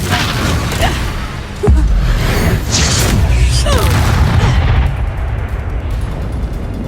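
A Confringo spell goes off as a loud, sudden explosive boom inside the Hogwarts Legacy video game, with a sharp burst followed by crackling debris and rumbling game-action noise that fades toward the end.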